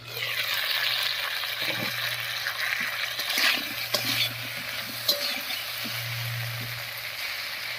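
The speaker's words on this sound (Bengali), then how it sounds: "মশলা বাটাটা দিয়ে বেশ কিছুক্ষণ কষিয়ে নিলাম" Ground spice paste with green chilli and ginger frying alongside potatoes in a pan, a continuous close sizzle with occasional stirring clanks and knocks.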